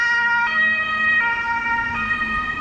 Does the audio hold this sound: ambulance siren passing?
yes